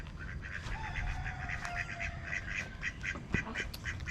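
Ducks in a swampy backyard garden quack repeatedly in a rapid, chattering series at moderate distance, over low-pitched outdoor background noise.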